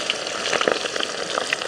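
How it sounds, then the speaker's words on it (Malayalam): Quail fries in boiling oil with a busy crackle of small pops and sizzles, close and moderately loud, across a short burst with no voices. "എണ്ണ എങ്ങനെ തിളച്ച് വന്നിട്ട് നമുക്കിനി കാട ഇറക്കി കൊടുക്കാം"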